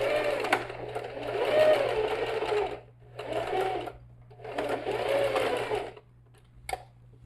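Sewing machine stitching a bag lining with a 1 cm seam allowance, running in three steady bursts separated by short pauses, close and clear with a faint hum beneath.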